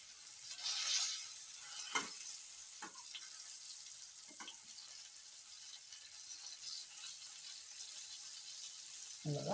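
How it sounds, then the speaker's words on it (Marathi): Pieces of bangda (mackerel) fry in a pan Malvani style, giving a steady, soft sizzle with a few scraping stirs from a spatula and no voices. "बघा असे भाजून येत आहेत"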